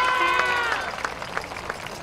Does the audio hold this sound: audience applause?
yes